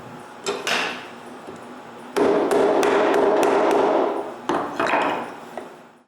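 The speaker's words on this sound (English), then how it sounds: "Now I can remove the unwanted wood." A chisel clears waste wood from hand-cut dovetails, giving a run of close, hard mallet taps and woody chopping knocks over a rough scraping rush, with brief pauses between bursts.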